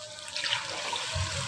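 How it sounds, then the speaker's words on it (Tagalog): A glass of water is poured into a pan while cooking creamy carbonara, a brief splashing gush of liquid heard up close with no talk. "isang basong tubig lalagyan natin"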